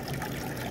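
Water running over a Miller table washing off black sand during gold prospecting, a brief steady trickle and wash of flowing water, close and even, with no voices.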